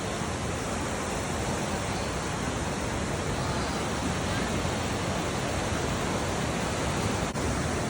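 Powerful rushing river current at Niagara Falls: a dense, unbroken roar of churning water, loud and close, filling the whole stretch without pause.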